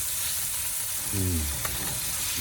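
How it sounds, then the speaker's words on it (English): Bacon frying in a pan on a camp stove for a Cajun gumbo, a steady broad sizzle throughout with a brief voice in the middle. "Fry up the bacon a little bit in there."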